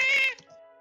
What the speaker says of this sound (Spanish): Fue un gato.